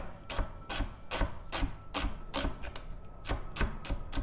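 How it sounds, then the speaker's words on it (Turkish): A knife dices an onion on a cutting board, about ten crisp, evenly spaced taps in a quick rhythm, close up. "bunu da küp küp doğruyorum"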